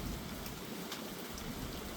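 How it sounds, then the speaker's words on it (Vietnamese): Heavy rain pours down in a steady, loud, dense hiss of drops hitting surfaces, continuous throughout, with no voices. "Là mưa nhiều"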